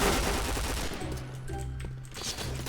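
An AP5 gun fires in a shooting video game. A dense burst of rapid automatic fire opens loud, then short stuttering volleys follow with small gaps between them.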